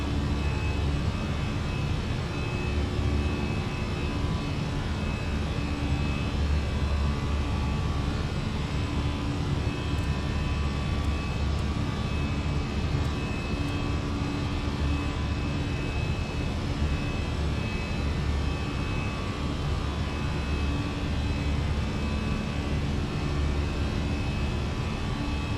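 Air France airliner jet engines at climb thrust, a steady, loud and unbroken roar heard from inside the cabin, with no voices over it.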